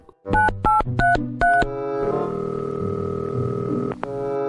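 Four quick telephone dial tones beep in rapid succession, followed by a steady ringing line tone that holds for a couple of seconds, loud and close with no talking.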